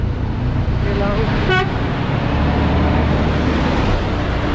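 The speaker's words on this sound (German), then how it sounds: "Jetzt lassen wir den LKW mal hier vorbei, den guten." A truck passes close by on a road with a loud, continuous roar of traffic and a brief tonal toot partway through, while a person talks over it.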